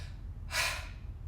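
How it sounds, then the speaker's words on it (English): A single quick, breathy inhale, short and fairly faint, over low background hum. "they'll take a deep breath and they'll go like this"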